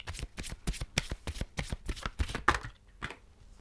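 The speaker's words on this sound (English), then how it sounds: "So Doreen Virtue's angel therapy cards. We're just having a couple of those" Angel therapy oracle cards riffled and shuffled by hand, a quick run of crisp, evenly spaced flutters close up, then a short pause before one last shuffle.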